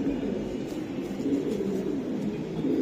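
Racing pigeons coo in a steady, low murmur, close and continuous over a soft background hum.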